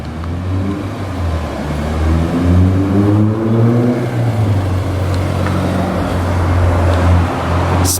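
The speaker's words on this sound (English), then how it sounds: "I heard a car over here" A car passes at close range with a loud, steady engine drone that rises and shifts in pitch as it goes by, no voices present.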